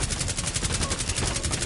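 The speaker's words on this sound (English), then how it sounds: "Big ass machine gun." Heavy machine gun in Rainbow Six Extraction firing a continuous fast burst of loud, close automatic rounds with no pauses.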